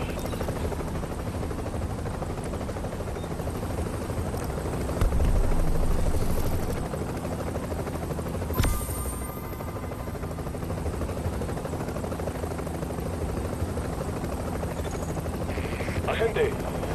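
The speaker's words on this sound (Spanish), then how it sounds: "El helicóptero se va en 30 segundos." An extraction helicopter in The Division's Survival DLC drones steadily with a dense rotor roar throughout, with brief gunfire-like bursts and radio voices over it.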